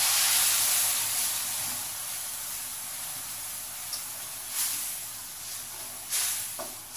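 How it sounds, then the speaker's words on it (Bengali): Turmeric, chili powder, cumin powder and ginger-garlic paste fry in a pan, giving a steady hiss and sizzle throughout with a few brief louder spits near the end; no speech is heard. "হালকা ফ্রাই করছি"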